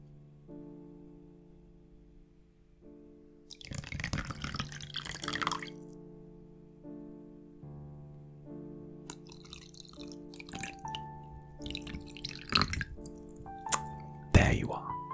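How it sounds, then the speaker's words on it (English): A drink pours and drips into a glass during a royal vampire court roleplay with an ASMR setting. It comes in two soft, close bursts of trickling liquid over a low, sustained tonal background. "Let's pour you a glass."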